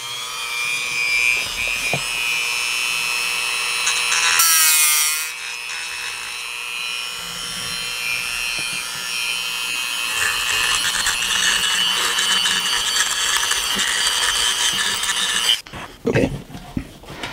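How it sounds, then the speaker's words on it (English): A Dremel rotary tool smooths resin cast stones for an HO scale model water tower, a steady close whirring grind that runs nearly the whole time, briefly rising around the middle and cutting out near the end. "some of them I'm actually going to use my Dremel tool"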